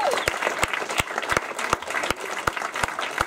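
Applause for a stand-up comedian at a comedy club, with individual sharp claps standing out from a denser crowd clapping, steady and close for a few seconds.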